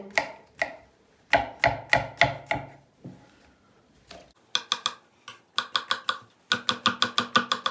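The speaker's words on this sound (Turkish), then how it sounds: "mantarların hepsini bu şekilde doğrayıp soğuk suyun içine bir alalım" A knife chops mushrooms rapidly on a cutting board in quick rhythmic bursts of crisp taps, pausing between runs, close and clear.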